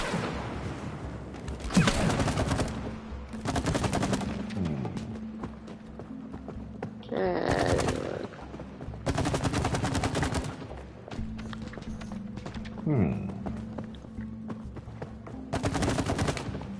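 Repeated bursts of rapid video-game gunfire from It Takes Two, several loud volleys spread across the stretch with short gaps between them, over a steady backdrop of game sound effects.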